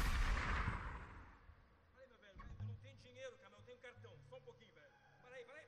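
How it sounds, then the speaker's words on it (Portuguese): A loud gunshot sound effect in a radio sketch, bursting at the start and decaying over about two seconds, followed by voices talking. "Por que ele tá atirando no cara,"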